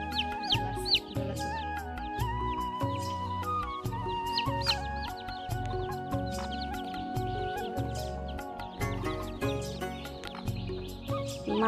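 Village hens and a rooster cluck steadily and close by, a busy flock calling over one another throughout without pause.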